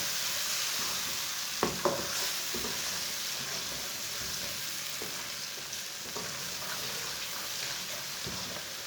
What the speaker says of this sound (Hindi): टमाटर और सब्ज़ मिर्च को 2 मिनट तक पका लेंगे।